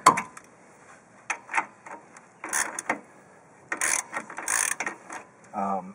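A ratchet clicks in short bursts while loosening the brake caliper mount on a Chevrolet Silverado, with quick pawl rattles separated by brief pauses, close by.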